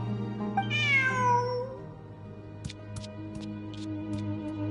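A cat gives one clear, drawn-out meow up close, followed by a few soft clicks and taps against a low background hum.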